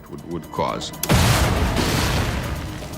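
A dynamite charge goes off in a blast test after a few words of talk, bursting into a loud, close boom followed by a sustained rumbling roar that slowly fades.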